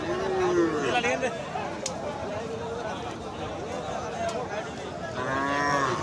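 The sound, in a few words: cattle mooing at livestock market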